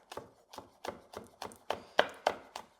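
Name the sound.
knife slicing a hot pepper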